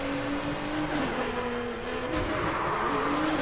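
A fully built Aston Martin with 1400 horsepower revs in a race in NFS Heat, its steady, loud engine drone holding close and continuous with shifting pitch throughout.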